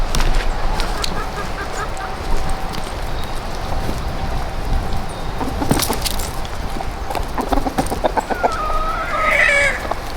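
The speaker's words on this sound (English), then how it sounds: "First we turn off the electric fence, and then we open it up and we let them out." Laying hens cluck and squawk as they're let out of their pen on a homestead, a dense, loud flock chatter close by with a rising cackle near the end and no voices.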